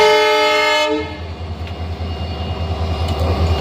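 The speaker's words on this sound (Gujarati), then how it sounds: "ટ્રેન ગાડી આવી ગઈ, જો" A train pulls in, its loud horn blaring for about a second before cutting off, leaving a steady low rumble and rattle of the moving railcars close by.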